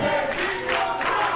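A crowd at a fight event cheers and roars continuously at moderate volume, a dense wash of many voices rising and falling.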